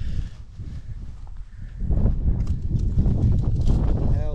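Hooves of a herd of cows moving over hillside farmland in New Zealand, a steady soft clatter and shuffle that grows louder and closer midway, with breathing and wind noise over it.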